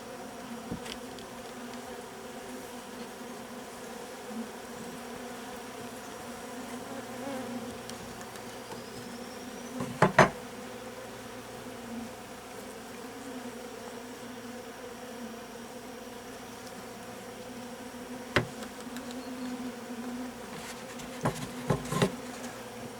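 Bees buzz steadily around a hybrid beehive, a continuous droning hum with occasional sharp knocks of woodwork, no talking.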